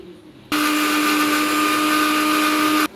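Dry roasted ingredients with no water are ground to powder in a mixer grinder jar, a loud steady high whine that starts sharply and runs about two and a half seconds before cutting off, alone.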